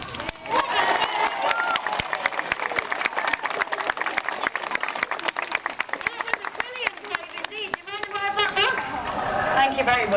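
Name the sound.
audience cheering at sea lion show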